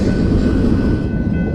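Freight train cars roll past close by at Chehalis station, a loud continuous low rumble and grinding roar with a faint high metallic whine running steadily underneath.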